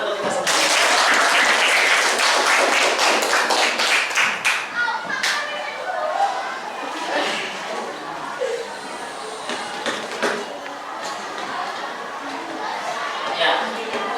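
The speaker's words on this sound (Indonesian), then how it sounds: "tepuk tangan untuk kita semua" A class of children claps together in a classroom during a lesson on prayer, a loud burst of rapid clapping that fades into scattered claps and chatter, with an adult voice talking over it.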